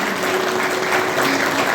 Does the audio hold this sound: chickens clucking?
no